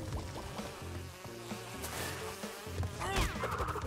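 Buzzing bees chasing the player in the video game Crash Bandicoot 2, a steady insect drone blended into busy game music and effects, with brighter swooping tones near the end.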